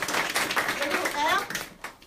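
A Korean language class at Hanyang University claps briefly during a classroom card game, scattered hand claps mixed with children's and students' voices talking over them.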